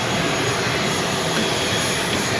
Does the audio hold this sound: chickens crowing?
no